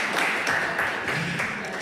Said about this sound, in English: I think we give them a bit of applause.